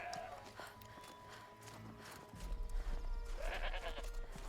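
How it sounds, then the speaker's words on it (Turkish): A goat in Horizon Zero Dawn gives a short bleat over continuous game ambience and music, with hooflike thuds and a low rumble growing louder toward the end. "Keçi mi var lan oyunda?"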